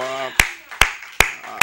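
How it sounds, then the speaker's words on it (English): Four sharp, evenly spaced hand claps from a church congregation in praise, loud and close, with a voice preaching under the opening beat. "Oh, clap your hand and give God a praise right now."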